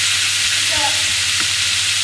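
Lean Macro-brand beef mince fries in a pan with a loud, steady sizzle, joined by a few soft scrapes and taps of stirring.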